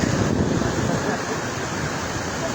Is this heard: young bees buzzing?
no